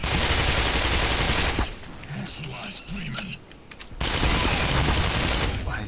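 Rapid gunfire while shooting an enemy in the video game Black Mesa, dense bursts of shots at the start and end with a quieter gap between where a voice speaks.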